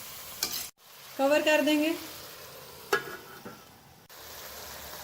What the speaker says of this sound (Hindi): अदरक लहसुन के पेस्ट को फ्राई होने देंगे।